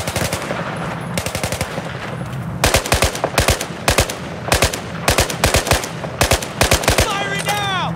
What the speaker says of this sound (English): Watch out! I'm firing!